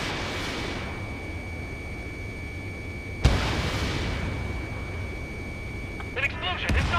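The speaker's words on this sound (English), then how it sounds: "An explosion inside!" A sudden boom bursts out of a constant roar of engine noise and a high steady tone in the Ace Combat 7 flight combat game, followed by further dull impacts near the end.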